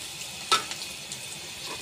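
Onions frying in a pan with green chilies, a steady soft sizzle with one brief scrape of stirring near the middle, close and alone without talk.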